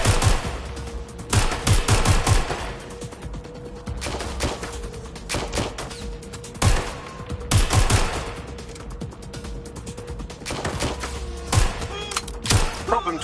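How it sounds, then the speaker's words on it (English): Rapid automatic gunfire in a video game, loud repeated bursts of shots with thuds, heard alongside a voice talking. "Shots fired!"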